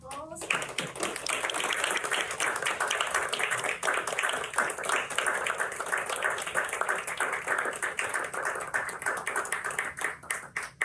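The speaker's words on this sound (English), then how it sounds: "let's give her a warm round of applause" A Toastmasters club audience claps in a sustained, dense round of applause lasting several seconds, steady and fairly close before tapering at the end.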